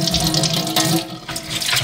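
Water pours steadily from a tap or jug onto sprouting seeds in a container, a continuous close splashing rush lasting about two seconds with no voices.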